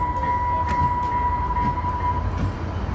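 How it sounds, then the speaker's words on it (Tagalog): A UTA commuter train bound for Salt Lake City rumbles past close by in a steady loud roar, with a sustained squealing tone and faint rail clatter throughout. "There's the train."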